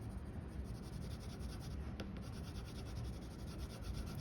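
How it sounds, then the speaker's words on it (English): A colored pencil shading on paper with the side of the lead, making soft, fast, overlapping back-and-forth scratchy strokes in a steady rhythm, close and faint. "I'm using the side of my lead. I'm overlapping my pencil strokes."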